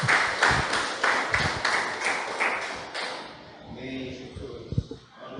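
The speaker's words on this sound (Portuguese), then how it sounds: "Você pode dar uma salva de palmas para Jesus?" A church congregation claps for Jesus during a sermon, with crisp rhythmic hand-claps in a steady beat for about three seconds before the clapping thins out and fades under murmuring voices.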